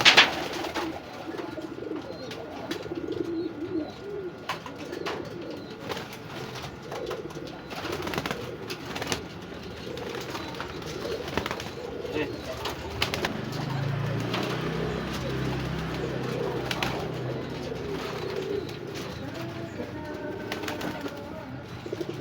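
Pigeons coo steadily during a first courtship drive, soft throaty rolling calls repeating throughout over a busy background of other bird sounds and faint movement.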